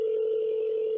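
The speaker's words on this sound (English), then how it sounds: "Let's call Zach." A telephone being dialed to call a prize winner gives a steady, sustained tone that lasts about a second, loud and clear with no voices.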